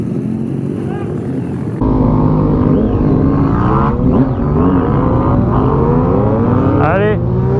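Loud motorcycle engine on a race track climbing through revs, its pitch sweeping upward in repeated rising surges and shifts at close range, with a voice briefly heard under it.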